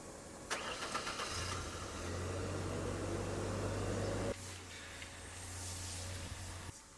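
An old Ford Ranger work truck engine idles steadily after a sharp start, a low steady hum with a faint tick, fairly quiet and close, with no talking.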